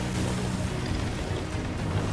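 Ocean waves roll and wash continuously in the pirate sailing game Sea of Thieves, a dense, even surge of water and wind with no voices over it.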